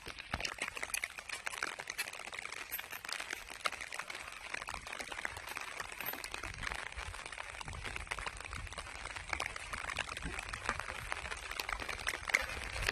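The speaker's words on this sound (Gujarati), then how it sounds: "અત્યારે વરસાદ પડે છે" Steady rain falls on a cotton farm near a flooded well, a constant, fairly quiet wash of patter and trickling water with no voices.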